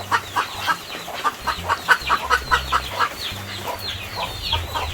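A chicken clucks in rapid, repeated bursts close by in the Westmoreland hills of Jamaica, with a steady rhythmic run of short clucks and no talk.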